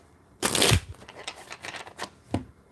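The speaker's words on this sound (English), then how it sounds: "I just want to make sure I shuffle up the cards real good" A deck of tarot-style cards being shuffled by hand: a loud riffle burst at the start, then a run of softer, irregular card slaps and flicks, close up, with no talking.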